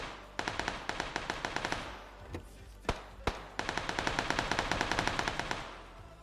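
Rapid bursts of automatic gunfire, about 30 rounds, crackle in steady fast volleys with a brief pause holding a couple of single heavy shots, fairly distant and sharp.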